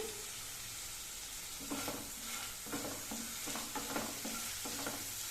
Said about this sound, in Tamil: ஒரு அஞ்சு நிமிஷம் நல்லா வதக்கிக்கலாம்